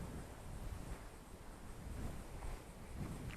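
Wind blowing outdoors across snowy ground beside a road, a steady low rushing roar buffeting the microphone, with no voices.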